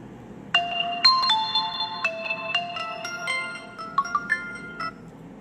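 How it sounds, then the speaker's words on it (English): A phone rings in on a radio call-in line, playing a bright melodic ringtone of stepped tones that repeats for several seconds, fairly clear with no voices over it. "Let me open phone lines."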